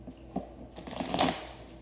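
Tarot cards are shuffled by hand in a quiet room, producing a brief, soft, close-up riffle of papery flicks and rustles.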